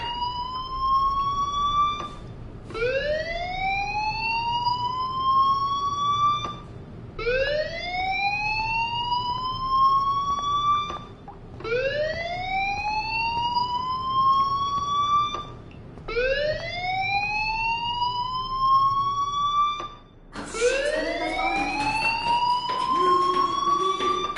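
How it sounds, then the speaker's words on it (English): A fire alarm sounds in the video game Life is Strange, a loud rising electronic whoop repeating about every four to five seconds, five or six cycles, with a harsher burst near the end and no talk. "do you hear that fire alarm?"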